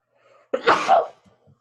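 A single close, explosive sneeze bursts out after a brief silence, then trails off into quiet.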